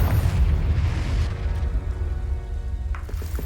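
A Confringo blasting spell goes off in the video game Hogwarts Legacy with a heavy, rumbling explosion that decays over a few seconds, followed by faint crackling debris.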